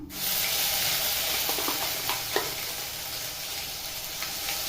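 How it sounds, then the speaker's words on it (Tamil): Onion paste hits hot oil in a pan for a cauliflower gravy, producing a loud, dense sizzle and spatter that holds steady, with a few faint stirring clicks and no voices. "எண்ணெய் அதிகமாக தெரிக்குது. நீங்கள் போடும்போது தள்ளி நின்று போட்டுக்கோங்க."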